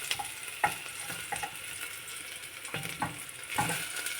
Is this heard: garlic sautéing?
yes